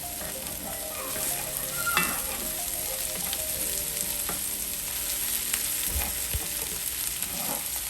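Onions and garlic fry in a pan while being stirred, a steady, close sizzle running throughout with scattered scrapes and taps of the utensil, no talking.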